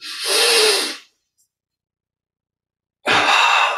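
Two deep, forceful breaths drawn in during a yoga muscle-tension exercise, close and breathy, separated by about two seconds of silence.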